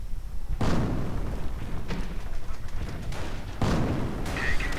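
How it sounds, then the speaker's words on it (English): Mortar fire in a WWII strategy video game, with several loud thumping blasts at irregular intervals over steady battle noise and no talk. "More mortar fire."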